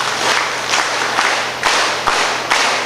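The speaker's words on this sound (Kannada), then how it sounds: "ಚಪ್ಪಾಳೆಯ ಮುಖಾಂತರ ಅಭಿನಂದನೆ ಸಲ್ಲಿಸಬೇಕಂತ ಕೇಳಿಕೊಳ್ತಾ ಇದ್ದೇನೆ" An audience at a Dharmasthala rural development project office-bearers' installation ceremony claps together as a dense, loud wash of applause that swells in rhythmic surges, with no talk over it.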